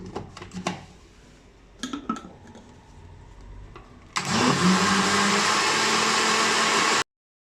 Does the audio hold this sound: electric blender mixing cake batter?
yes